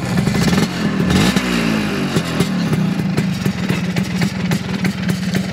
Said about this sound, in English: I'll simply kickstart.